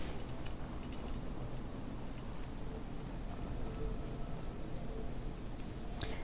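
Steady rain hiss from a thunderstorm in the video game Fallout 4, with a continuous dense wash of falling drops and no talk over it.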